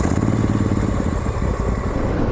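A Moto Guzzi Audace motorcycle engine runs close and loud with a steady low rumbling throb, held at a constant pace with no talk.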